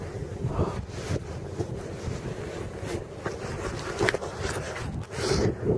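Cold winter wind gusting across Tin Can Beach in Saint John, New Brunswick, rumbling against the microphone in uneven bursts alongside faint surf, with no speech.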